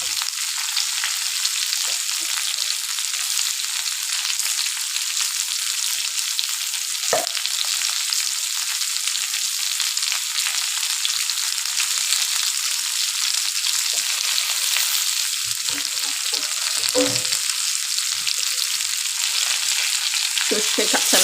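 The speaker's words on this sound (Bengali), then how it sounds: "সর্ষে কাঁচা লঙ্কাটা ফেলে দিলাম।" Ground mustard and green chili paste fries in a jackfruit seed curry with a loud, continuous hissing sizzle and a few faint knocks of a utensil.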